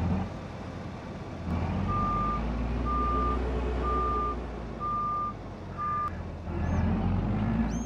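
Reversing alarm of a Volvo R100E rigid dump truck at the E45 Elk Mountain site in Farming Simulator 22: five evenly spaced beeps over a steady engine drone, with no talking.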